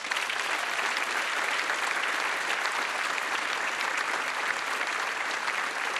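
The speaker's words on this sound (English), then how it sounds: "Give yourselves a huge round of applause" Studio audience at a Q&A television show recording in Townsville claps loudly and continuously, a thick, even wash of applause with no talk over it.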